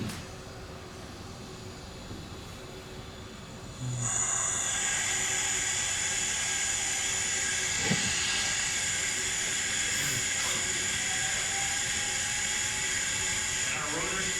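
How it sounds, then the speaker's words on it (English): An air-driven rotor on a lab test board spins up: a steady hiss jumps sharply when the air comes on, then a high whining tone holds steady with faint background noise. "And our rotor spins up."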